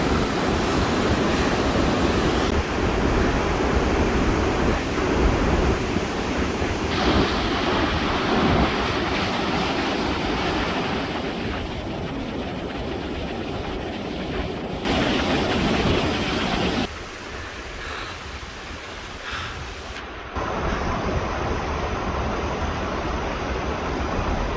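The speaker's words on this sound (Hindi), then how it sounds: "ये आबशार का पानी, अगर आप देखें गबराल" Water at Gabral waterfall in Swat rushes in a steady, loud broadband roar that carries on without a break, with some shifts in level and no speech.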